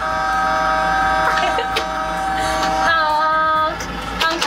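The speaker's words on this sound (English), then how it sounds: "Let's honk the horn." Toy front loader truck sounding its electronic horn, a bright sustained tonal honk that repeats in bursts, with brief pauses between, close and fairly loud.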